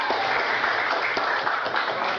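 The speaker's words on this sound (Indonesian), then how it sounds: "tepuk tangan untuk kelompok 2" Classmates in a mathematics lesson clap for a student group, a steady, dense wash of applause lasting the whole moment, fairly close and even throughout.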